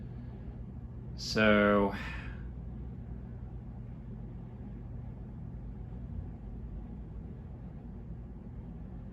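A Hunter Colonial II ceiling fan with a faulty switch housing winds down, giving a steady low hum and rumble throughout, briefly interrupted by a short spoken word near the start.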